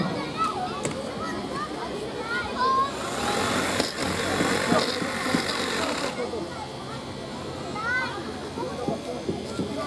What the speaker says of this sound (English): So now we're going to cut through the posts of the car to get to the roof.